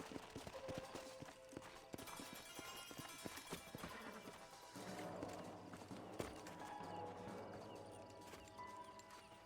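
Video game horses' hooves clip-clop on the ground at a walk near an old house, mixed with game sound effects and a brief whinny, the hoofbeats irregular and moderately close.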